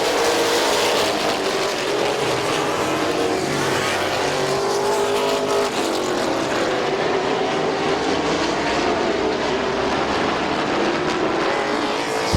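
Race cars at Midvale Speedway roar continuously around the oval track, with a dense, loud wall of engine noise throughout and no talk over it.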